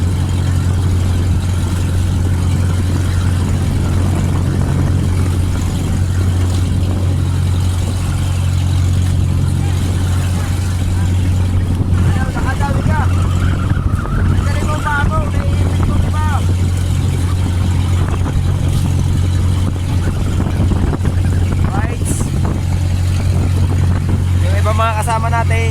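A fishing boat's engine drones in a constant low hum at sea during rough weather, running steadily under men chatting nearby and rushing wind and water.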